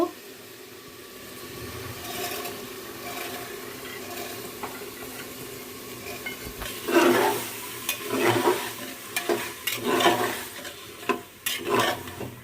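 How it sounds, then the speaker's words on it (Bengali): Soaked chana dal being sautéed with beef head meat in a pan, giving a steady frying sizzle with repeated scraping and stirring strokes that grow busier and louder toward the end. "এখন আমি এই ডালটার সাথে আর মাংসটা ভালো করে কষিয়ে নিব।"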